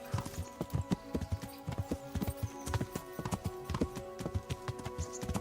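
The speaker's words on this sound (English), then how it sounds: "I want to make sure I don't inadvertently ride the horse off a cliff." Horse hooves clip-clopping while riding in the video game Kingdom Come: Deliverance, a steady, brisk rhythm of hoof strikes heard close and alone.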